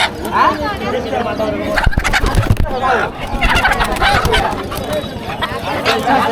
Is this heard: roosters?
yes